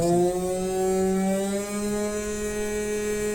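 A CNC machine spindle motor runs at full speed with a drill bit fitted, a steady high whine holding a constant pitch throughout.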